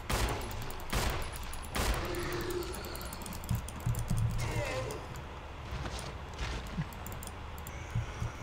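Gunshots in the Resident Evil video game: several sharp shots scattered irregularly over a busy game soundscape, with a voice talking throughout.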